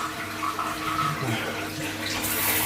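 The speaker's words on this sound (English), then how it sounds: "Turn that tap on." Steady water running from a tap in an empty house awaiting renovation, a continuous hiss at moderate level with a brief splashy rise near the end and no talk.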